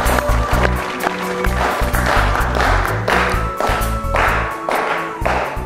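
An audience on a television quiz show claps in welcome as a guest comes on stage, a dense ongoing applause with rhythmic music thumping steadily beneath it.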